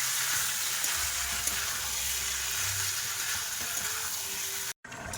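Ghugni, a spiced Bengali pea curry, sizzles and bubbles steadily while being stir-fried in a pan, with a continuous close frying hiss that cuts out briefly near the end.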